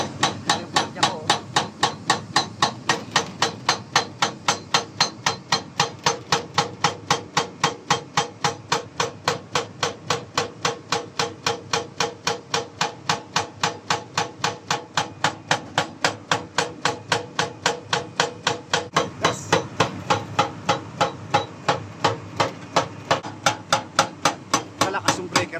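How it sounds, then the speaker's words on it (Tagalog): A worn-out breaker pounds into the ground while digging for gold, striking in a fast, steady hammering rhythm that runs loud and close for the whole stretch with only a brief hitch near the end. "Malakas yung breaker namin."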